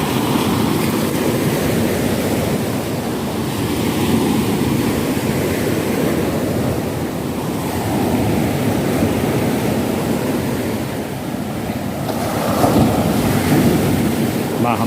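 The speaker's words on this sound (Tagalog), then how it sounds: "Ay, maalon. Alon. Tayo sa dagat." Rough sea surf on a Mindoro beach, with constant crashing waves and heavy wind buffeting the microphone, loud and continuous from start to finish.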